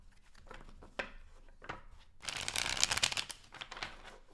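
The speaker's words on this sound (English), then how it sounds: "Last shuffle for Virgo." Tarot cards are shuffled during a reading. A few soft taps and slides lead into a brisk, crisp riffle midway, heard close and alone without talk.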